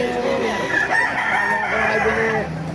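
Rooster at a gamefowl farm in Baliuag, Bulacan, crowing loudly and close by in one long, drawn-out call over faint background noise.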